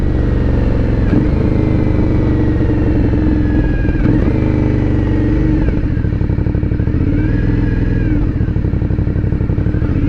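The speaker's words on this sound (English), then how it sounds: "So now we shall take it out on the interstate for a quick run." A 2020 Aprilia Dorsoduro 900 motorcycle runs on the interstate with a loud, close, steady engine drone and wind rush, its pitch rising and dipping through a few throttle changes.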